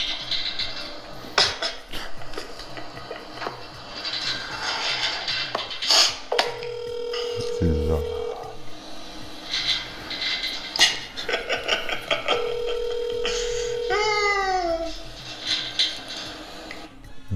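A phone call ends with a run of electronic telephone tones: sustained beeps and stepped, dial-like chirps, mixed with clicks and mechanical noise, with no talk over them.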